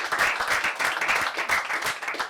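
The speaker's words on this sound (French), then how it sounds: "Oh bravo, moi j'applaudis." Audience applause at a Pint of Science talk on quantum physics, a brisk burst of many hands clapping together throughout.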